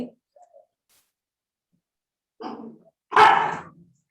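Pet dogs barking indoors: a faint yip at the start, then two sharp barks toward the end, separated by silence.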